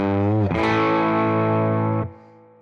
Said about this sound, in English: sound 1 is the bridge humbucker